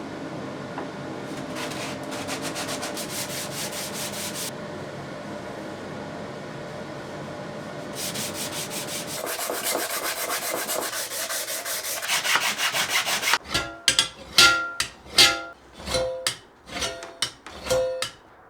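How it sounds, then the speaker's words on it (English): Wood is sanded by hand around an access port, long rhythmic rasping strokes close up, continuous at first, then shorter bursts of rubbing and scraping toward the end, no talking. "So a lot of sanding."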